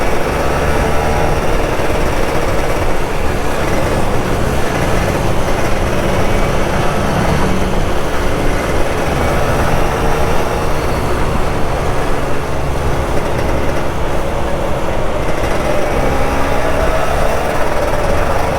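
An older Kawasaki Ninja RR 150 two-stroke motorcycle rides on wet roads in rainy weather with a light throttle. A steady, dense engine drone blends with rain and road noise throughout, without much change in intensity.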